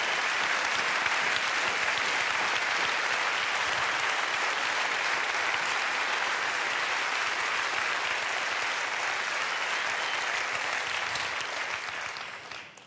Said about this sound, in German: vielen Dank für den sehr berechtigten Applaus